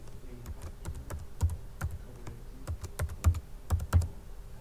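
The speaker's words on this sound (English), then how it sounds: "you'll need to type in the password for that Gmail account" Someone types a password on a computer keyboard, the keys clicking in quick irregular bursts with a few heavier strokes, close and clear with no talk.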